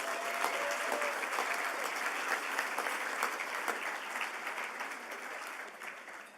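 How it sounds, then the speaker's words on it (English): Sustained applause from a large audience for bachelor's and master's degree recipients at an accountancy awards gala, a dense, steady wash of clapping lasting throughout and easing slightly toward the end. "Please, one big final round of applause for all of our bachelor's and master's recipients."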